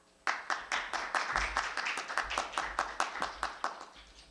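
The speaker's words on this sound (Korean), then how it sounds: "박수로 맞이해 주시기 바랍니다" Applause from a press-conference audience: regular, fairly dense clapping starts abruptly and continues steadily at moderate volume, with no talking over it.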